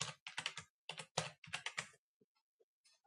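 Bursts of typing on a computer keyboard while entering business hours on a federal firearms license application, clustered rapid keystrokes in several runs, close and clear, followed by a few scattered single taps.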